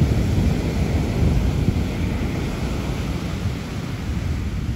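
Strong ocean surf on a beach at Surfing of the North: a continuous heavy roar of breaking waves mixed with gusty wind buffeting the microphone, loud and steady throughout with no voices.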